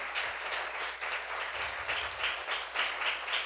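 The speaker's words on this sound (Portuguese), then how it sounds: "Aplaude aí, crente, aplaude a Jesus aí." A church congregation claps together in applause, a steady dense patter of many hands filling the space with slight swells, no voices standing out above it.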